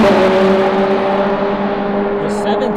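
McLaren 720 GT3X time attack race car, a loud sustained engine whine with strong steady tones that holds near and then begins to fade as the car moves off.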